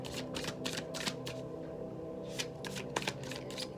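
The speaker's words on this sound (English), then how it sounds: "Whenever you are done shuffling and feeling like you're putting your intention into it, I want you to cut your deck 3 times." A tarot card deck is shuffled by hand in a quiet room, giving bursts of rapid riffling and flapping in an irregular rhythm, close and fairly soft, with no talk.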